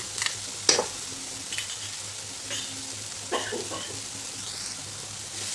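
Ginger garlic paste being sautéed with cooked tomatoes in a pan for mushroom masala, with a soft, steady sizzle and a few sharp scraping stirs of a spoon close by.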